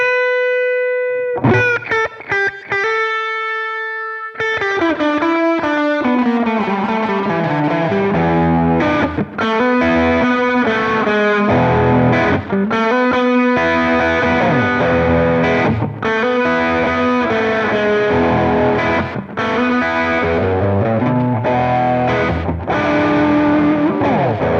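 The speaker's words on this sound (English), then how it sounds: "we'll be listening to the echo mode on an electric guitar again" Electric guitar played through the Pulsar Audio Echorec plugin in echo mode, with the mix sweeping from dry to wet. A few sparse notes open into a steady, sustained run of distorted, repeating echoed phrases that stays loud throughout.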